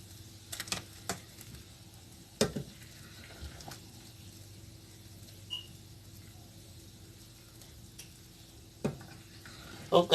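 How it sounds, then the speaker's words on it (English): Pepper soup stock poured into a pot and stirred, giving faint intermittent scrapes, clinks and soft sloshing spread over a quiet background with low hum. "add it into my wet spice liquid, which is the pepper soup stock"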